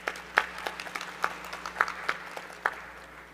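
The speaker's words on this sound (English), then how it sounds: "So please welcome her with a big round of applause." Sparse applause from a conference audience welcoming a session moderator at a business forum, with scattered individual claps standing out irregularly over a faint room hum, fairly quiet and distant, no talking.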